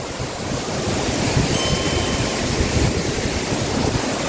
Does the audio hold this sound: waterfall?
yes